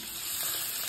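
Eggplant and masala frying hard over a high flame, a steady close hiss and sizzle of hot oil with no break.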